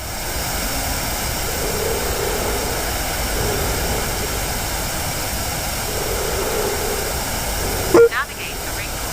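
A Messerschmitt Me 262 A-1a jet flies in a video game, its engines giving a steady, broad roar that stays loud throughout, with a brief sharp clunk near the end.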